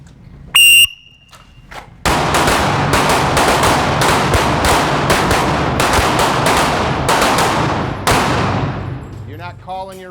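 Handgun shots at an outdoor shooting class in Terre Haute, Indiana, a rapid irregular volley of sharp loud cracks from several shooters, preceded by a brief electronic beep and a faint voice.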